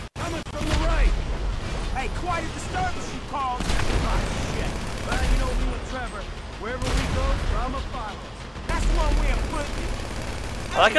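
Tanks shelling in Grand Theft Auto 5, with repeated heavy booming blasts and gunfire bursts spread across the clip, loud and close, under excited chatter from several players.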